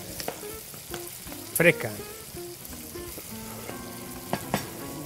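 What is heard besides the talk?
sofrito of fresh vegetables frying in a pan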